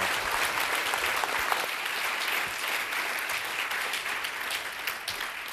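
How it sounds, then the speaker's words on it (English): Sustained audience applause for the speakers at an event, a steady, even wash of clapping from a crowd that continues throughout without letting up. "let's give our speakers a round of applause"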